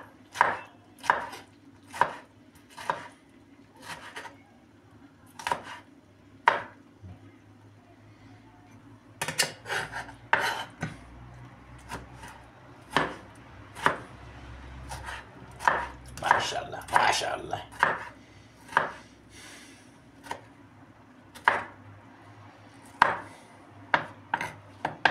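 Steady knife chopping tomatoes and onions on a cutting board, many crisp, regular taps in a continuous rhythm, close and moderately loud, with a brief busier stretch midway.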